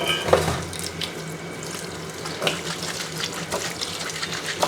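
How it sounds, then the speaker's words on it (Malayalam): Water running over a cotton cloth as it is washed and wetted in a kitchen while making a broken-wheat breakfast, with steady splashing and trickling throughout and a few louder splashes near the start. "നല്ലപോലെ കഴുകി എടുത്തിട്ട് നനച്ചെടുക്കുക"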